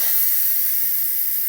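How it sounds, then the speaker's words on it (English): Steam hissing from the pressure release of an electric pressure cooker, a loud, steady, close hiss with no talking. "So the steam has released."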